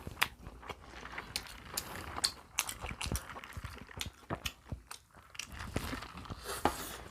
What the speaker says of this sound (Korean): 롯데리아에서 나온 신상 그 스위트 어스 어썸버거를 먹었는데